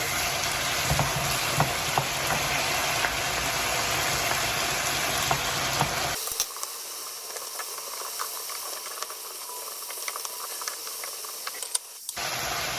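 Garlic frying in a pan for Greek vegan green beans, a steady loud sizzle and hiss that drops sharply to a quieter crackle about halfway, then briefly rises again at the end.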